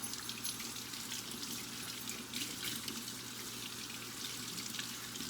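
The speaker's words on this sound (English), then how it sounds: "I'm gonna get about 3 pieces of codfish for this thing. And I'm gonna wash it off." Steady running water streams over salted codfish pieces as they are washed off, a continuous splashing gush under a faucet with no talk, fairly constant in level throughout.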